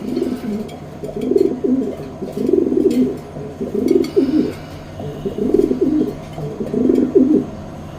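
Pigeons in a cage on a farm coo in repeated throaty phrases, a steady rhythm of about six close, fairly loud bursts separated by short pauses over a quiet background hum.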